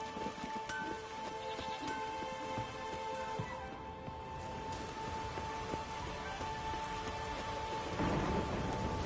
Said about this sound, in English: A roaring gale. Oh, raining again.